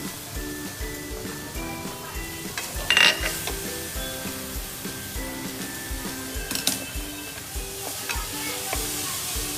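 Grated fresh coconut cooks in melted jaggery with a little cardamom powder for rava ukadiche modak, a steady soft sizzle broken by scraping stirs and a couple of louder spoon knocks against the pan.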